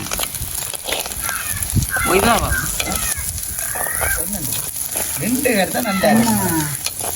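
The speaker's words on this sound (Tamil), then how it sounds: "இப்போ நாங்கள் வந்துட்டு கருவாடை மேலேருந்து போட போகிறோம்." Dried fish frying in a pan, a continuous close sizzle with occasional stirring scrapes, heard under people talking.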